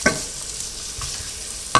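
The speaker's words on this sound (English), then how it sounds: "we tip the chopped sausages in, because and that's also to render the fat out of the sausages" Chopped sausages frying in a pan as their fat renders, a faint steady sizzle with a couple of light clinks at the start and end.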